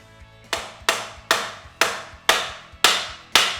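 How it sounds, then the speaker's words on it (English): Seven sharp metallic hammer blows, evenly spaced and close, striking a bolt on a crank rotation-control install, each impact ringing briefly before the next, with no talk over them. "I would hammer on the bolt itself to try and push the other side too"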